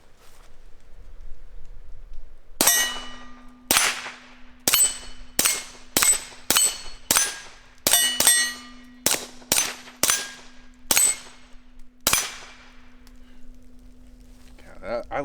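Pistol fitted with a Nic Taylor +1 magazine extension firing about fourteen sharp, ringing shots in a quick, slightly uneven string, each crack followed by a short echo, loud and close, with no talking during the firing.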